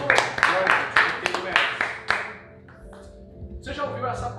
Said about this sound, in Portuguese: Pode ser sentado de palmas para Jesus